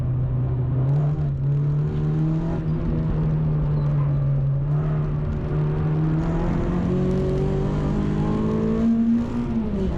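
A Renault Clio race car's engine drones loud and close from inside the cabin at the top of fourth gear on the Anglesey track, a sustained steady whine that rises slightly near the end.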